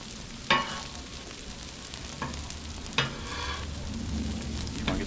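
Onions sizzling on a Blackstone griddle alongside hash browns, a steady frying hiss with a few sharper bursts and scrapes as food is added, no voices.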